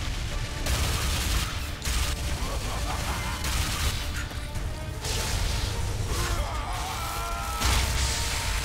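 Rapid gunfire and crashing impacts from the Bulletstorm shooter video game, a dense, loud, continuous barrage of shots and hits lasting throughout with brief dips, with faint voices mixed in.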